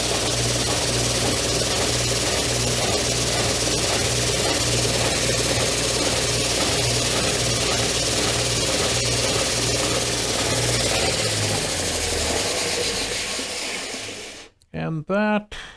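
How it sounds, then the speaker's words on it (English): A horizontal machine sander works bent wood pieces for a Damascus-style build, giving a loud, steady motor drone with broadband grinding and a low hum; it winds down near the end, followed by a few brief knocks. "Let me move over here to the horizontal sander."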